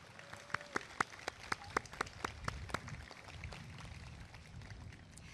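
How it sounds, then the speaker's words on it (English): Audience applause during an in-person spring 2022 university commencement ceremony, beginning with sharp scattered claps that blend into a steady, moderately distant wash of clapping. "Let's give them all a round of applause."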